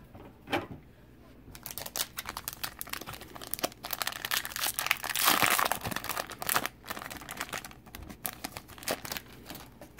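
A Magic Mystery Booster card pack wrapper is torn open and crumpled up close, giving sharp, irregular crinkles and crackles that swell in the middle before tapering off.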